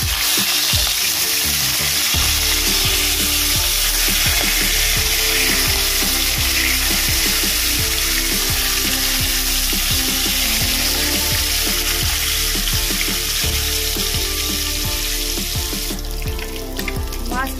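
Shol fish (snakehead) frying in mustard oil in a pan, a steady loud sizzle throughout with occasional clinks of utensils, no talking.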